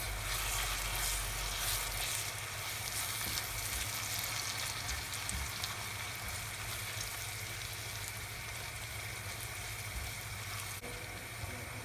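Beaten eggs with spring onions cooking in a frying pan, giving a steady, close sizzle with faint scraping of stirring throughout and no talking.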